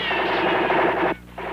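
Machine gun firing in a rapid, continuous burst, loud and close, breaking off briefly before resuming.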